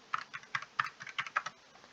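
Keys clatter on a computer keyboard as a phone number is entered into an online flight booking form, a close series of quick, uneven taps with short pauses between them, no voices.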